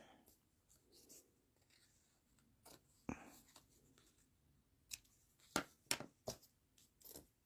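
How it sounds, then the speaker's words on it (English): Small scissors trimming the ends of a paper panel for a handmade card, heard as quiet separate snips and rustles, soft and close, in a near-silent room. "let's trim those ends"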